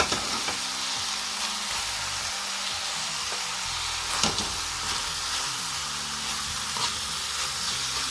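Cabbage frying in a hot pan gives a steady, close sizzle and crackle that runs throughout, with a few louder spits and stirring clatters.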